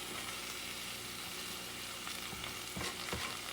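Bison or beef meat chunks with a splash of vinegar heating in a pan, a steady low frying hiss with a few brief stirring scrapes near the end.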